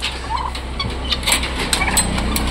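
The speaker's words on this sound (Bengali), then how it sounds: "মুরগিগুলো একদম পাগল হয়ে যাচ্ছে খাওয়ার জন্য" A flock of chickens clamours for feed close by, a dense and continuous chatter of clucks and squawks with no voices.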